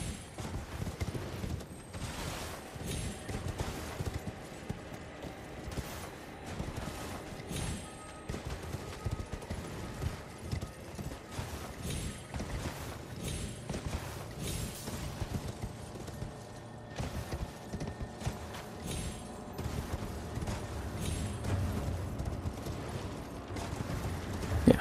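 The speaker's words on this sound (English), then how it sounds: "Didn't think I would instantly summon my horse right there." A summoned horse gallops across open terrain in the video game Elden Ring, with a rapid, steady clip-clop of hooves running throughout, mixed with faint rattling game effects and no speech.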